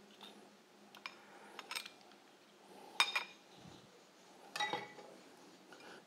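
Metal spoon clinking against pots and dishes while cooking Thai curry crab, a few scattered bright clinks and scrapes, close and fairly quiet, with no talk.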